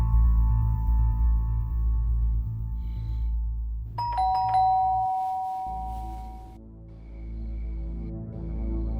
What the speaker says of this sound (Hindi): एकदम से डोरबेल बजी